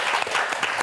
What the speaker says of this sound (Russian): Под бурные аплодисменты.